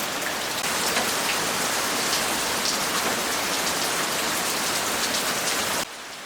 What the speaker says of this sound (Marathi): पाऊस काही थांबेना.